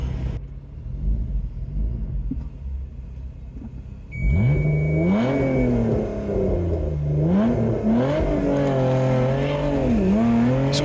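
A Lotus sports car at an autocross start revs up, then launches hard, its engine note climbing through several loud gear pulls with rising and falling pitch, close and continuous, with faint tire noise.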